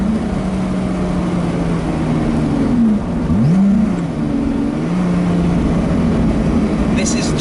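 Lotus Exige S V6 sports car driving, its engine droning steadily with rising and falling pitch as revs shift, a continuous loud in-cabin hum throughout.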